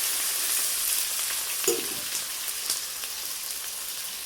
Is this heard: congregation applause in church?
no